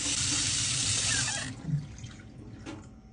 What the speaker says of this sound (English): Now I gotta wash my hands again